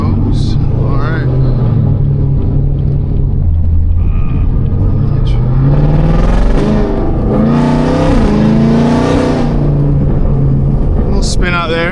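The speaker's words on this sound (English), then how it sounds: "should be able to get a quick little pull here once this car" A Chevrolet Camaro ZL1 on newly installed tires pulls hard, its engine rumbling low and then climbing through rising revs with a brief wheelspin, loud and close from inside the car, while a voice talks over the start.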